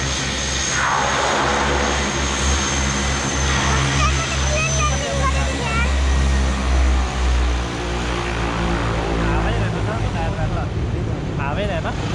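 Small propeller airplane at Jumla airport drones loudly and steadily close by, its engine tone shifting as it moves, while people talk nearby.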